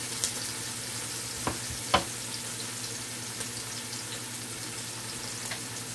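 Chopped onions sweat in a pot with a faint, steady low sizzle, a few soft clicks and a brief clatter breaking the otherwise quiet hiss.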